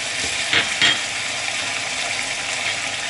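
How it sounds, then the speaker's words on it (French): Sauce of fish sauce, soy sauce and brown sugar being stirred in a wok over a steady sizzle, with a couple of brief scraping strokes near the start and no talking. "Et on mélange comme il faut."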